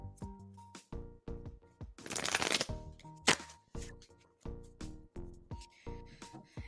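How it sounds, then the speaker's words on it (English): Tarot cards being shuffled by hand during a live reading, giving a run of crisp riffling bursts and soft slaps with one longer dense riffle in the middle, close and fairly loud over faint background music tones. "All right, Jazz, I'm shuffling for you now. You can probably hear me shuffling in the background."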